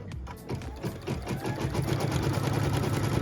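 A sewing machine stitches a cut line while piecing a quilt block, its rapid mechanical needle rhythm running steadily and close for the whole stretch with no talk.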